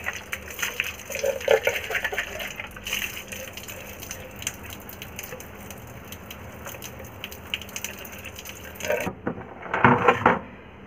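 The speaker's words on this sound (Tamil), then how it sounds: "தண்ணி ஊற்றினா நல்லா பளிச்சுன்னு சுத்தமாக இருக்குது." Water is poured over a cup being rinsed after a salt-stain cleaning, a soft steady trickle and splash under low background noise, ending in a louder gush of pouring near the end.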